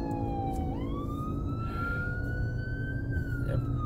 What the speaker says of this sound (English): Oops, you got a siren, just like some ambulance slowing down to let the ambulance pass.